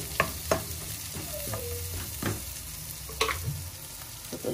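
Onions cooking in a pan with meat and no added oil sizzle softly at home, broken by several sharp scrapes and clacks of a spatula stirring against the pan.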